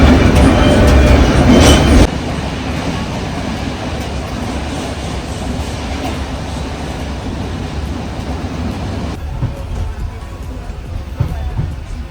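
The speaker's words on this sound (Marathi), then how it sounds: "त्याच्या आतमधली ट्रेन आणि काय मॅन्डेटरी कोकण रेल्वे" Loud, steady rumble and rattle of a moving Konkan Railway train, heard close from onboard, with a continuous roar that shifts in tone partway through.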